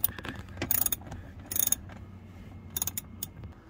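Ratcheting wrench loosening a bolt on a Chevy pickup seat: quick bursts of metallic clicking come in short clusters with pauses between, close and fairly quiet, with no talk.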